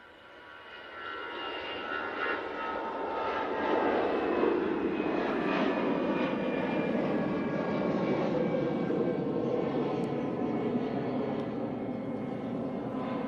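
An easyJet airliner's jet engines at Manchester Airport swell from quieter to a loud, steady roar that holds for the rest of the clip, with no talk over it.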